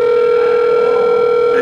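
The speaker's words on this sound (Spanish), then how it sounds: "esta es la extensión 200 que estoy marcando" A steady, loud continuous telephone tone plays from an Asterisk office phone system while extension 200 is being dialed, running unbroken without talk.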